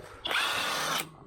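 A power drill runs in one steady burst of just under a second, close and fairly loud, backing bolts out of the door hinges on a 1967 Camaro.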